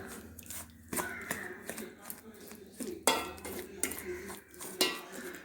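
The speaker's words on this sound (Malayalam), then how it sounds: "രണ്ട് ടീസ്പൂൺ പഞ്ചസാര ഇത്രയും ചേർത്ത് നല്ലതുപോലെ മിക്സ് ചെയ്യുക" Puttu flour is stirred with milk and sugar in a bowl, giving repeated scraping clinks of a spoon against the bowl in an uneven rhythm, close and moderately loud.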